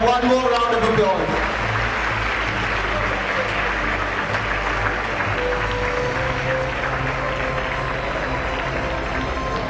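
Audience applause fills an awards assembly hall, a steady dense wash of clapping that holds at an even level throughout, with a brief voice or tone at the very start.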